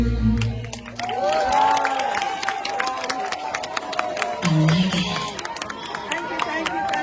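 Audience applause at a school prize-giving and speech day in Mattru Jong, a steady wash of clapping and crowd noise that swells and holds throughout, with voices mixed in.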